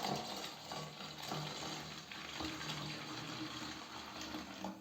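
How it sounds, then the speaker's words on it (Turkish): Water being poured into a toilet bowl during cleaning, a soft continuous splashing flow heard close but faint, with no talking. "Daha sonra içerisine biraz su ekliyoruz."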